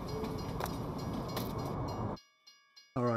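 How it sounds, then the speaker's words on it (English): A passing train rumbles loudly and steadily at close range for about two seconds, then cuts off abruptly into near silence before a brief, sharp burst of noise at the end. "There goes the train."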